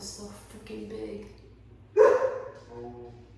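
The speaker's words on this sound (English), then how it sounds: "Now my dog's barking." A dog barks once, fairly close and sharp, amid ongoing speech and low background hum.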